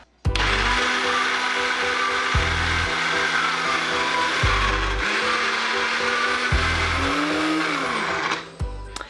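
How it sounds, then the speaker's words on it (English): A blender whirs loudly while mixing keto chocolate frosty ingredients, running in several pulses of steady high-pitched motor whine with low rumbling between bursts, one pulse briefly rising in pitch before cutting off. "And I'm going to go ahead and blend her on up."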